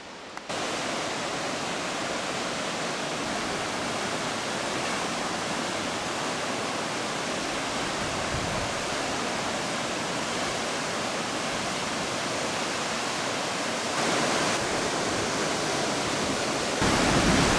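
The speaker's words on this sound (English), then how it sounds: "We've made a stop at the Thunder Creek Falls" Thunder Creek Falls, a waterfall on New Zealand's South Island, roars as a steady, broad rush of falling water that holds constant and loud from start to finish, with no voices.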